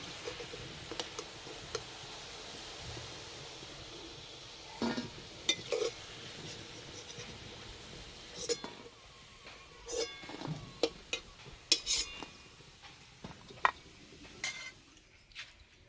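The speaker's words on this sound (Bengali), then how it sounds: "বাকি ফুলুরিগুলো একইভাবে ভেজে নেব।" Ripe jackfruit fritters frying in a pan of hot oil give off a quiet, steady sizzle, broken by occasional light clinks and scrapes of a utensil.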